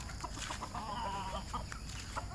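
Kelso gamefowl chickens clucking in a steady, busy chatter close by, with repeated short calls over a noisy farmyard background and no clear crow.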